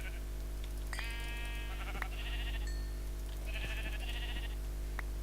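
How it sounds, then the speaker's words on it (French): Sheep bleat in Minecraft, several short wavering calls spread over a few seconds against a steady low hum, with scattered clicks and no voices. "Il y a des moutons, il y a des moutons."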